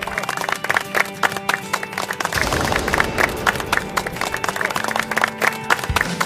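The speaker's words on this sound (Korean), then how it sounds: "여러분 일단 격려의 박수 한번 부탁드리고요" Studio audience clapping in encouragement at a strongman arm-wrestling competition show, steady mid-distance applause with some chatter and a host's voice over it.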